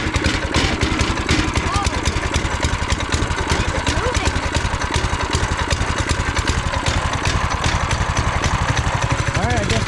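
A bigger engine fitted to a kids' go-kart idles loud and close with a rapid, steady chugging pulse that persists throughout, with no other sounds standing out.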